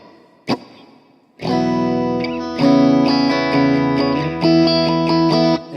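Electric guitar through a Kemper Profiling Amp with reverb: a short pluck, then sustained distorted chords and notes ringing out with a long, smooth reverb tail.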